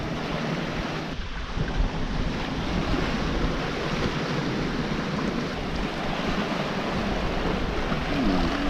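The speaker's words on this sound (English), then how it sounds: "The waves really are bigger than they look." Ocean waves wash steadily around a sailboat far out at sea on a single-handed transatlantic crossing, a constant surging roar blended with gusty wind buffeting the microphone throughout.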